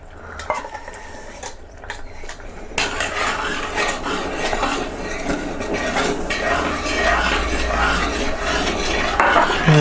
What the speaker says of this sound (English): you just gotta keep stirring that now until it changes to a nice golden brown colour